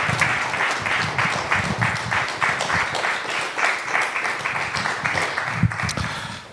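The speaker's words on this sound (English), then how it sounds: "Just give me a round of applause." A room full of people gives a round of applause, a loud continuous patter of clapping with a few louder individual claps, lasting several seconds before tapering slightly.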